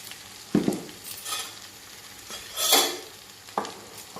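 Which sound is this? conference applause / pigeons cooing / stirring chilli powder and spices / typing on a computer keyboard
stirring chilli powder and spices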